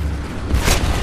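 Tank cannon round striking an enemy tank in War Thunder, heard as a single deep boom with a brief burst of crackle, fairly loud and alone with no talk.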